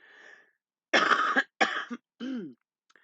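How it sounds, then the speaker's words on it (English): A voice trails off, then three harsh coughs in quick succession, loud and close, with short pauses between them. "Sometimes I just cough"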